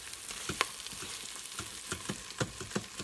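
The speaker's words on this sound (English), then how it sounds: "I am letting the parts of the beef brown just a bit by not stirring it continuously" Chunks of beef for rendang sizzle and fry in a pan, a steady crackling bed broken by a series of sharp scraping stir strokes, close and fairly loud with no voices.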